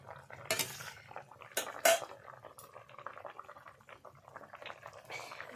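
Sour snakehead fish curry made with mango powder, turnips and mustard oil is poured from a cooking pot, with sharp metallic clinks of pot and utensils over a soft liquid pour, close by.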